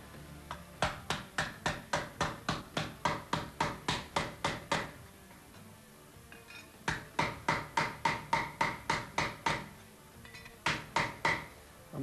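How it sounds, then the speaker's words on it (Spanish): Steady rhythmic hammering of a wooden mallet on a silver disc, sharp metallic-wooden strikes in quick runs of blows separated by short pauses, close and clear with no talking. "vamos a empezar a golpear con martillo de madera"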